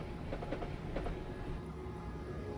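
A Class 377 Southern EMU running in Train Simulator 2016 on the London to Brighton line: a steady rolling rumble with a faint rhythmic clickety-clack of the wheels, heard close and continuous, with no voices.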